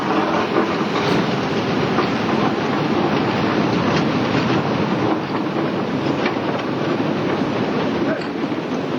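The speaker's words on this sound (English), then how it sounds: "The locomotive engine is capable of pulling 6 to 7 loaded ore" A mine locomotive in Haiti hauls loaded ore cars along rails, producing a loud, continuous rumbling clatter that stays steady throughout.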